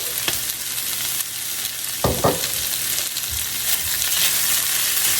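Rice frying in olive oil in a hot pan, with a steady sizzle throughout and a few stirring scrapes partway through.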